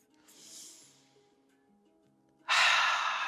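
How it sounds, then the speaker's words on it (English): A slow, soft inhale during a seated chair yoga session, followed after a pause by a loud, breathy exhale close to the microphone. "Bringing in a nice big breath."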